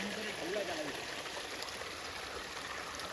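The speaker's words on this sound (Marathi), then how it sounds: "हा वॉटरफॉल, अजून डीप होत चाललाय।" Waterfall near a railway dam at Igatpuri, a steady broadband rush of falling water running unbroken and fairly faint from start to finish.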